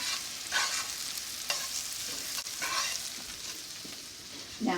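Carrots cook with brown sugar in a pan, giving a close, steady sizzle with a few distinct scraping strokes as a utensil stirs them.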